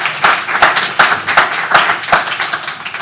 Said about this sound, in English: Give them a round of applause, really briefly.